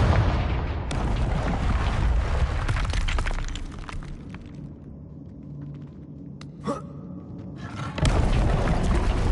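Confringo spell explosions in Hogwarts Legacy: loud booming blasts with rumbling debris and shattering crackle, a quieter stretch with a sharp burst midway, then another heavy boom near the end.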